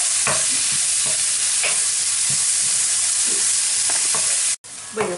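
Onion frying in a pan with salt, making a close, steady sizzle broken by repeated scraping stirs of a utensil, with a brief dropout near the end and no talking.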